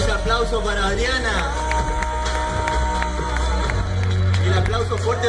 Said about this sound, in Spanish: Fuerte ese aplauso para Adriana.